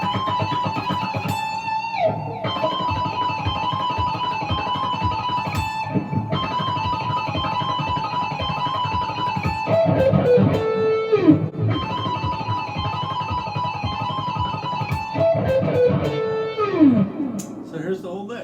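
Fast neoclassical shred lick on a distorted electric guitar in the 1980s style: rapid picked runs with descending slides, loud and continuous, played alone.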